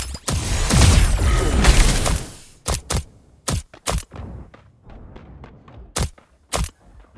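A dense burst of rapid gunfire gives way to scattered sharp single shots in the video game Super Mecha Champions, loud and punchy, with quiet gaps between them.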